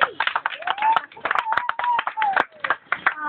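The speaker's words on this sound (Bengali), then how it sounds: "হাততালিটা চালাই।" Children clap their hands in quick, uneven bursts during a storytelling session run by camp volunteers, with an adult voice talking over the clapping throughout.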